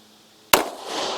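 A single sharp gunshot from a Glock 27 .40 S&W concealed-carry pistol on a shooting range, a sudden loud crack followed by a lingering rumbling tail, with no talk.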